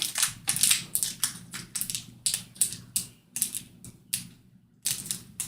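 Screws being worked out of a T-800 model kit: a rapid run of sharp, dry ticking and clicking bursts, close and fairly loud, in uneven clusters with brief pauses and a low steady hum underneath.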